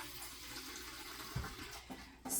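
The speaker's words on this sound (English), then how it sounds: "I am going to put a little more water." Water poured into a sous vide container for making yogurt, a faint running splash that swells briefly near the end, quiet and without talk.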